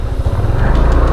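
A Yamaha Nmax V2 scooter engine labours on a rough, water-damaged road project between Capas and Botolan, giving a loud, close, steady low drone with a slight rising strain and no talking.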